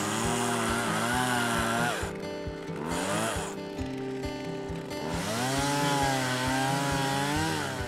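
A chainsaw roars steadily, its pitch dipping and rising as the blade bogs down and frees up while cutting a hole through thick lake ice for ice scuba diving.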